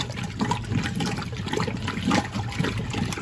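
Skinned coyote pelts are swished and held down in a tub of about ten gallons of water for degreasing, giving continuous close sloshing, trickling and gurgling with no pauses.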